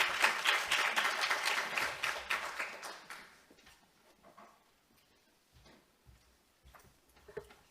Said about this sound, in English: An applause to welcome them.